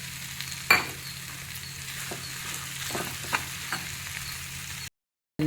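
Paneer cubes and capsicum stirred in a frying pan, soft scraping strokes and a few sharper clinks of the spatula over a low sizzle, close up, ending in a brief silence.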